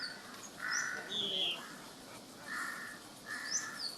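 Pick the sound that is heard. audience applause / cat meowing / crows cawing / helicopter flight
crows cawing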